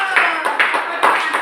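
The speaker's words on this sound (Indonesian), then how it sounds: "tepuk tangan untuk Yusuf" A classroom claps for a student, a few quick, irregular bursts of hand claps from a small group, close and fairly loud, over about a second and a half.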